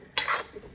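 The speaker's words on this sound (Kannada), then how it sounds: "ಹುರ್ಕೊಳಕತ್ತೀನಿ. ಒಂದು ಸ್ವಲ್ಪ ಗರಂ ಆಗಲಿ ಅಂತ ಹೇಳಿ ಅಷ್ಟೆ." A spoon scrapes briefly through a dry-fruit laddu mixture being roasted in a pan, one quick close stirring scrape followed by faint rustling.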